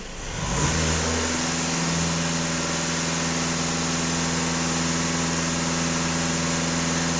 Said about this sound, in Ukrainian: даю газ в пол на обертах